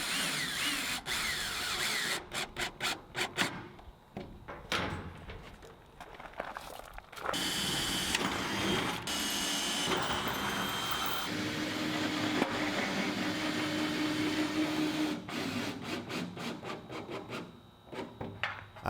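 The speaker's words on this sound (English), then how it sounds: "I drilled through both the tin and the frame and then used self-tapping roofing screws to fasten the tin down." Drill driving self-tapping roofing screws through tin siding into a wooden frame, a series of close whirring bursts with rattling metal and scraping between them.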